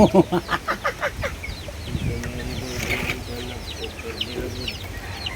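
A burst of rhythmic, close clucking from chickens on a small backyard farm at the start, followed by softer hen chatter and scattered bird chirps in the background.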